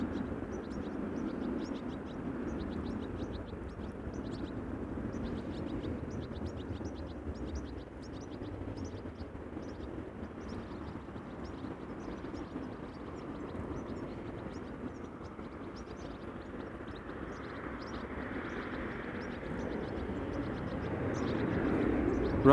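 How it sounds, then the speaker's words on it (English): Distant aircraft rumble at Amsterdam Schiphol Airport runway, a steady broad roar with faint bird chirps over it. "we might also see the A380 land on this runway"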